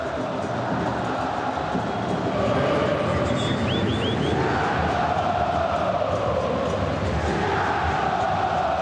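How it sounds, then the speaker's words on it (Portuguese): A large Botafogo supporters' crowd at the Maracanã during a 0-0 derby against home side Flamengo, a steady, far-off roar and chant that fills the stadium air without pause. "Veja aí a torcida do Botafogo"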